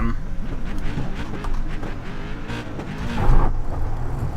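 SK Modified race car engine in the iRacing video game, droning steadily as the car pulls out of the pits, with a brief louder surge near the end and someone talking over it throughout.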